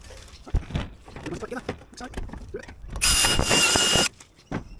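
A power drill whirs loudly for about a second while drilling a rivet hole in a gutter corner, after some brief talking and clattering, then stops.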